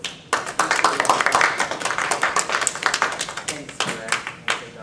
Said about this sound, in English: by giving her a warm applause on this bleak and cold day